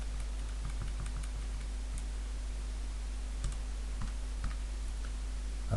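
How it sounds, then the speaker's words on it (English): Calculator cursor keys are pressed in a series of soft, irregular clicks, faint against a steady electrical hum and background hiss. "I'm just going to use my calculator cursor keys and go in there and change the 5 to a 3."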